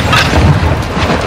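A loud, close artillery-strike explosion booms in the Modern Warfare 2 video game, a single heavy, rumbling blast that fills the short moment with no speech.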